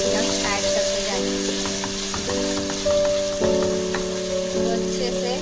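Onions frying with ginger garlic paste for beef paya, a steady sizzle under tonal music with a person talking throughout.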